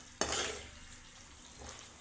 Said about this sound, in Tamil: மாதிரி பேஸ்ட் நல்லா வந்து ஸ்மெல் போகிற வரைக்கும் நம்ம வதக்கிட்டோம்